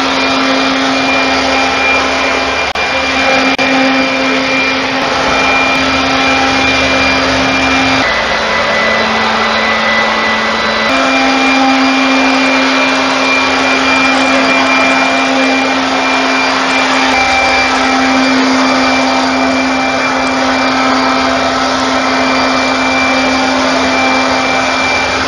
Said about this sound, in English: the Green Leaf 40 volt blower did an absolutely fabulous job